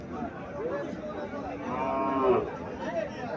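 A local cow offered for sale at a livestock market lets out a drawn-out moo in the middle, fairly close, with low crowd chatter murmuring behind it.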